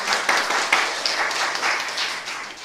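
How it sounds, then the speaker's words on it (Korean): A small congregation at an artillery brigade church's Sunday service claps to thank its worship team. Steady, moderately close clapping with no talk over it holds at an even level throughout. "고맙다고 박수 한번 쳐줄까요"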